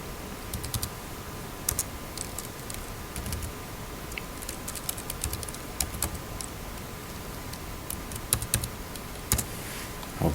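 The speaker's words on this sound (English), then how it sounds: "Let me type it in." Steady typing on a computer keyboard, with quick irregular key clicks close up and a few louder taps scattered through. No one speaks.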